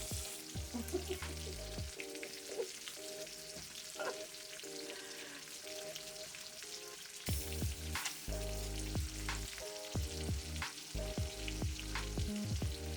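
Salmon frying in a pan, a continuous crackling sizzle with scattered pops and stirring, running steadily throughout beneath background music.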